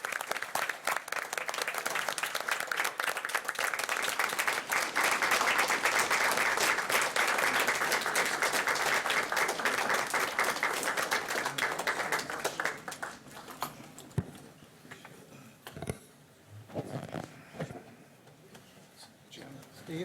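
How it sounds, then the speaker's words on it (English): A city council meeting crowd applauds firefighters with loud, dense clapping that holds for about twelve seconds, then breaks into a few scattered claps, with voices talking in the room. "if we just give out a round of applause for our firefighters"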